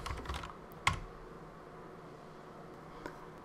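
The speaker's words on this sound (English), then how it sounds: "you have to type in netlify" Brief patter of keystrokes on a computer keyboard at the start, then a single sharper click and one more faint tap later, all quiet against a low background hiss.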